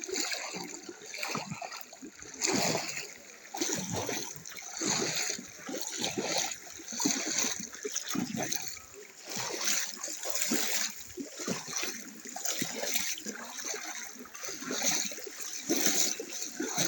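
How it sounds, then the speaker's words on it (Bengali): Floodwater flowing around a submerged village home in Chandpur, a faint, continuous rushing and splashing with irregular sloshing surges. "পানি বয় পানি"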